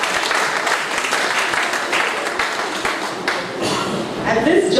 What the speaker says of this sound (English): We applaud you, not a round of applause for